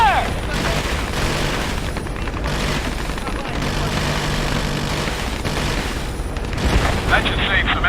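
Gunfire and explosions in the video game Ace Combat Assault Horizon, a dense, continuous barrage of booming shots and blasts with shouting voices mixed in.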